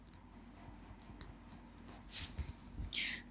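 A pen or pencil writes a maths solution by hand on paper, with soft scratching strokes and a few sharper taps near the end, close and quiet.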